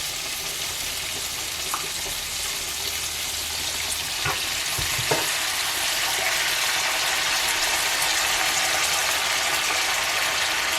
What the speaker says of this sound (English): we'll just saute those slightly